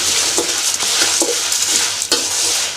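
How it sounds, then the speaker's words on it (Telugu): Cumin, fenugreek and dried red chillies dry-roast in a pan for rasam powder, giving a steady close hiss with soft stirring scrapes and a few light clicks as the spices are moved, with no one speaking. "ఇదిగోండి, ఇవి దోరగా వేగుతున్నాయి కదా."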